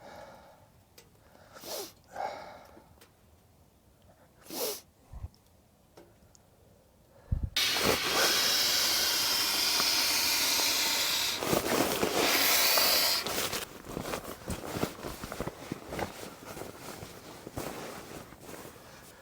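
Wet firewood drying on a hot tent stove while camping in a forest: after quiet shuffling, a loud, steady close hiss starts abruptly and runs for several seconds, then breaks into irregular crackles and pops.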